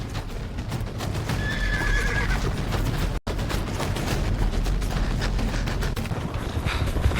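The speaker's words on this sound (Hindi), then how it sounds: "पीछे घोड़े की आवाज आ रही है" A horse whinnies over the rapid clip-clop of galloping hooves on sand in open country, loud and close, with wind noise throughout.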